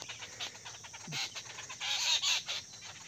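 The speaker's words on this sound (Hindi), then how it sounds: "देखिए सात भाई दोस्तों ये सात भाई साथ में रहते हैं हमेशा देखिए सात भाई का जोड़ा चिड़ियाओं का" Jungle babblers, the seven brothers birds, chatter as a pair outdoors near an orchard, giving harsh, raspy calls in uneven bursts over steady background noise, with no talking.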